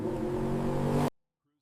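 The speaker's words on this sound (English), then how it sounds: "Cruising down the road, the Supercharged V8 feels terrifyingly fast." A supercharged V8 American hot rod, an old car restored after being found abandoned in the woods, drives along a road with a loud, steady engine roar that cuts off abruptly after about a second.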